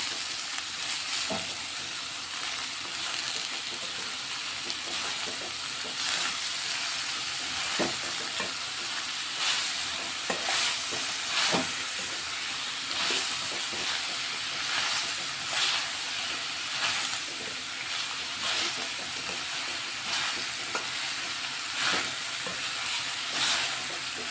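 Cabbage and chana dal curry sizzles and hisses steadily in a pan while being stirred, with scraping strokes of the spoon against the pan recurring every second or two; no one speaks.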